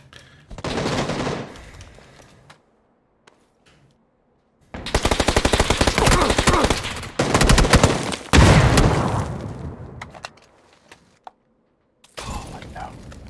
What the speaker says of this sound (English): Maybe they're shooting the dead body.